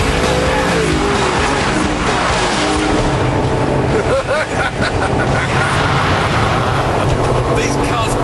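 An Audi R8 and a Porsche Carrera 4S racing on a track, dense roaring engines and tyre noise filling the whole stretch, loud and continuous with some rising and falling revs.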